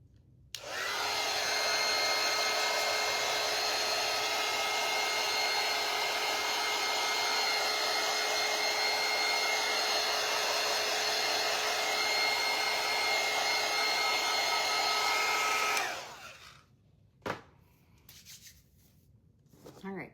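Hair dryer drying a painted pumpkin shelf sitter, blowing as a loud steady whir for about fifteen seconds, then switching off into quiet handling noises.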